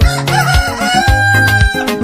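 Loud rooster-like crowing calls in a Swahili pop song, rising and falling against a musical backing, close and prominent.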